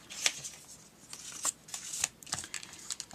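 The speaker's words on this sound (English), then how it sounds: "we want to cut our designer paper at this triangle piece too" Scissors snip through designer paper at a triangular corner piece for a paper treat box, giving a run of crisp, close cuts and rustles at an uneven rhythm.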